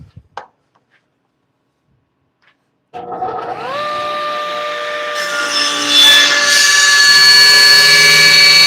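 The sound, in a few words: cutting wood off a bowl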